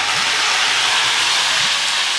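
Curry leaves drop into hot ghee for a tempering and set off a loud, continuous close-up hiss and crackle that holds steady throughout.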